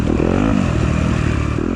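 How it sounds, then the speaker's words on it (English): A loud stock Yamaha YZ250F dirt bike engine roars close up during a harescramble race, holding a strong, raspy drone with slight clatter for under two seconds. "This bike is so loud."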